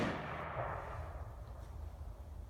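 A ceremonial rifle volley at a funeral service: one sharp, fairly distant report at the start that decays into a fading outdoor rumble and echo, with no voices.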